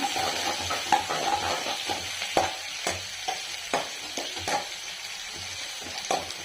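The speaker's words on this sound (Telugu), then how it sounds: "కరివేపాకు ఆనియన్ బాగా ఫ్రై చేసుకోవాల్సి" Curry leaves and onions frying in a pan with mustard seeds, a steady close sizzle broken by sharp stirring clinks of a utensil against the pan, no voices.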